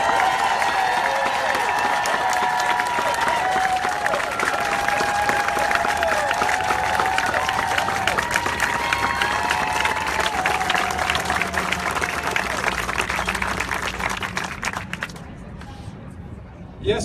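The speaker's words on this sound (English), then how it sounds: "however big a round of applause you gave Katherine Clark, she deserves one that is much, much bigger than that." A large audience applauds for Katherine Clark, sustained loud clapping and some cheering with a voice over the top, fading out near the end.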